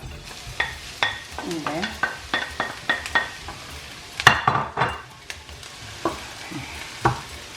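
Corned beef frying in a pan, with repeated sharp scrapes and clinks of a utensil stirring it over a soft sizzle and a brief quiet voice.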